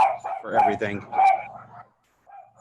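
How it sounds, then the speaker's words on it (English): A pet dog barks repeatedly during an online video call, giving a few loud close barks and yips that overlap a person's speech before fading to quiet. "And that's my dog"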